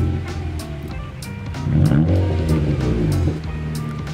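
A 2015 Honda CR-Z with its muffler deleted and a straight welded pipe fires up on a cold start. It gives a short raspy rev that swells and then settles, close and fairly loud, with no talking over it.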